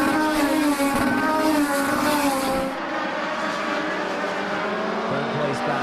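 Legend race cars roar around a speedway oval in a late-race pack, engines blaring loudly and steadily, then dropping back as the field passes and fades.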